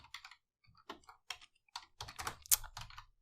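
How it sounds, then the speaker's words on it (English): Short bursts of keystrokes on a computer keyboard as a Cisco IOS command is typed, irregular clusters of clicks with brief pauses, close and fairly crisp, no talking. "We could type the first part of each command and press enter."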